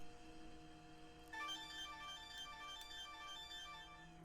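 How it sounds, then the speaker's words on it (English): A telephone rings indoors with steady, high electronic tones that start partway through and repeat faintly over low background hum. "And hear that phone too?"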